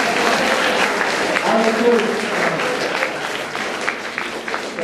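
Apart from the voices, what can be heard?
audience applause for students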